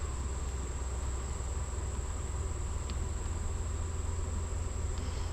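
Soft, constant drone of honeybees buzzing and fanning inside an opened hive during an August inspection, a faint steady hum with an occasional small tap of hive parts, no voices.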